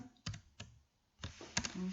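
Keys tapped on a laptop keyboard while entering an Excel formula, a few separate clicks and short bursts, close and fairly quiet.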